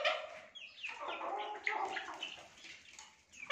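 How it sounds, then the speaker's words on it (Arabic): Local baladi chickens cluck and chatter close by in a busy, overlapping flurry of short calls, fairly soft but continuous, with no talking. "الفراخ البلدي"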